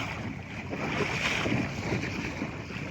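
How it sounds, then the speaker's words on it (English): Sunfish sailboat underway at evening, with a steady hiss of wind across the microphone blended with the wash of water along the hull, continuous and fairly quiet. "there's still some wind left here"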